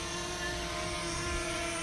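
A DJI Mavic Air Mini drone in flight gives off a steady, even whine of propellers with sustained tonal hum, moderately quiet and unbroken, with no talk.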